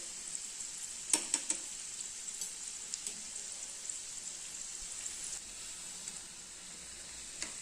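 Pottukadalai pakoda frying in hot oil makes a faint, steady sizzle with a few soft pops near the start, with no voices.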